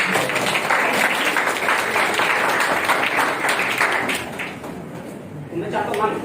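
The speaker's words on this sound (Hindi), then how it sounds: "तो मैम के लिए बस तालियां हो जाए।" Farewell applause for a retiring madam at a Nehru Yuva Kendra event in Mumbai, a dense crowd clapping steadily at close range, thinning slightly toward the end, with voices mixed in.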